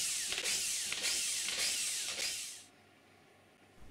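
Power drill driving screws into 3/4 inch Baltic birch plywood corner legs of an assembly table base, a few short whirring bursts with brief pauses, close and loud, then stopping into quiet near the end.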